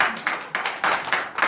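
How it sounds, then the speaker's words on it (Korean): A church congregation claps in rhythmic unison, several sharp group claps at a steady beat. "우리 잠도 깰 겸해서 박수 한번 치겠습니다"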